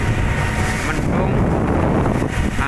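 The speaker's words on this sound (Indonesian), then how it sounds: "angin dan ombak cukup lumayan." Steady wind buffeting the microphone with rushing waves and sea spray around a rescue boat out at sea, continuous and loud throughout, overcast with rain nearby.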